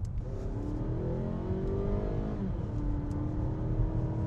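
A naturally aspirated four-cylinder car engine in sport mode revs up under acceleration, its pitch climbing steadily, briefly dropping at a gear change, then rising again, loud and close.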